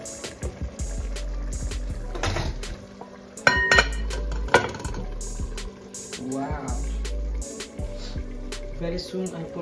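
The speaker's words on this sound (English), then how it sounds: "Now washing all the bowls." Bowls clinking and knocking together during washing after cooking potato leaf stew, with scattered sharp ceramic and metal clinks, rattles and a low running rumble, while people talk in the background.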